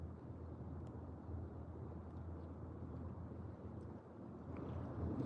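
Steady wind buffets the open air beside water on a cloudy fishing day, a continuous low rushing roar with no voices.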